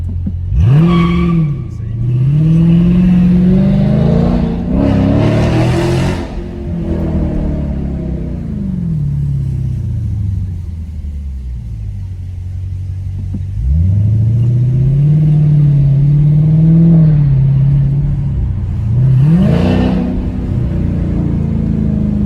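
A Dodge Challenger 1320 with a Corsa exhaust revs loudly, with deep rumbling pulls that rise and fall in several long sweeps and idle stretches between them, close and dominant with people talking underneath.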